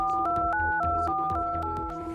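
A mobile phone number being keyed in: a rapid run of steady DTMF keypad tones, each about a quarter second long, stepping through different pitches one after another, clear and close.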